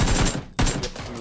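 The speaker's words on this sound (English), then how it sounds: "He's shooting at me." Heavy enemy gunfire in PUBG, a dense close barrage that breaks off for a moment and then starts again.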